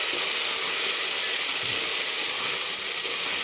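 Onion, tomato and turmeric sauté in a pot for a dry mutton dish, giving a steady, even sizzle and hiss that continues throughout with no talking.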